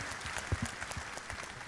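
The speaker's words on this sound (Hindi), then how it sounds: "अरे जोरदार तालियां भाई साहब" Quiet audience applause at a live trading seminar, a brief patter of clapping from a crowd heard at a distance at low level.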